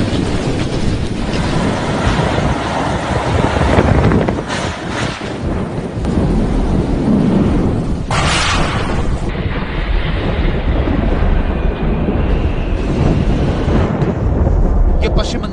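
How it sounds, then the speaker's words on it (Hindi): Super Cyclone Amphan roaring through West Bengal, with heavy wind and driving rain making a loud, continuous wash of noise and deep rumbling gusts throughout. "ये शोर है उम्पुन तूफान का, जिसने आज पश्चिम बंगाल और ओडिशा को हिला दिया।"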